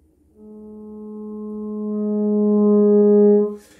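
A theremin, played by moving the hands near its two antennas, holds a steady electronic tone that swells gradually louder, then cuts off.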